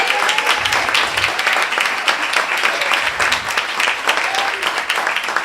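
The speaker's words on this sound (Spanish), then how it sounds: "Para Rafael Díaz Valar, un aplauso también, que nos ha apoyado muchísimo." Sustained applause from a crowd, dense and even clapping that fills the whole stretch without pause.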